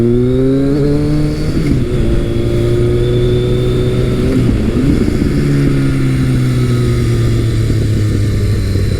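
Kawasaki motorcycle engine, KZ1000 or ZRX1200R, accelerating hard out of a corner, loud and close with rising and falling revs through gear changes, alone without talk.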